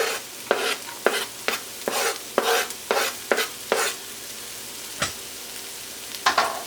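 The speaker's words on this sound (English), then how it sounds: "Let's let the garlic get aromatic." Chopped garlic frying in a pan for vegan pad thai, a low sizzle broken by a rapid series of sharp scraping stirs, then a pause and a final few strokes, close and clear without talking.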